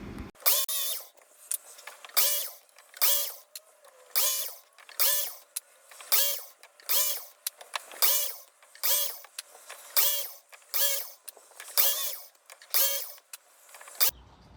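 Saw cutting miters on cedar boards against a stop block, a quick, even rhythm of about twenty bright rasping strokes, close and fairly loud, with no talk.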